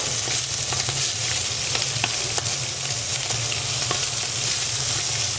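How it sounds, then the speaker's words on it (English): Pig's head and cheek pieces seasoned with Maldon salt sizzle and fry steadily in a hot pan, a close, continuous crackle with small pops, with no talking. "if you hear that sizzling, you know it's the right temperature"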